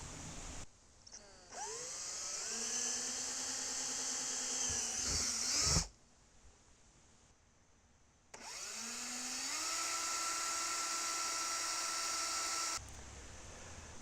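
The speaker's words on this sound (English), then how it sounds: "For the bottom, I'm going to be using a 1/2-inch drill bit" A drill with a 1/2-inch bit bores drain holes through the bottom of a plastic trash can. The sound comes in two sustained runs, each rising in pitch as the motor spins up, separated by a brief pause, fairly close.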